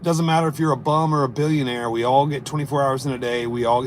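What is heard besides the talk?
No everyday noise stands out behind the speech.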